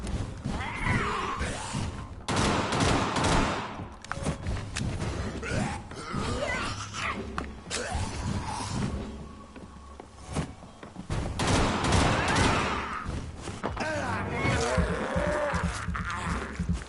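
Pistol shots fired in the vampire action game Vampyr ring out amid a busy, loud game soundscape of music and effects, with bursts of shooting scattered across the stretch and no talking.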